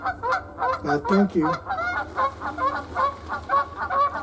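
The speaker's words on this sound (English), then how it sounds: "The geese are having a good time." A flock of geese honks repeatedly outdoors in early spring, a steady stream of nasal calls at close to middle distance, with a brief spoken thank-you over the top.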